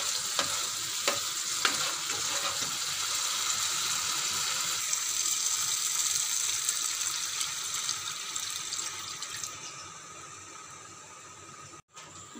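Spice paste frying with mustard and poppy seed in a pan for a fish curry, a steady close sizzle with scraping stirs that quietens near the end.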